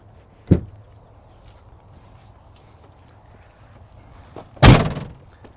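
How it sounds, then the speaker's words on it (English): Two separate thuds from the storage compartment doors of an Airstream touring coach, one soft near the start and a louder, fuller one near the end, with quiet background between them. "Both of these doors swing open."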